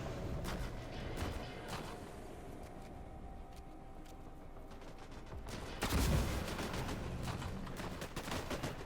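Gunfire from troops in the sci-fi squad-based shooter Disintegration crackles in bursts over a rumbling battle background, swelling into a louder volley near the end.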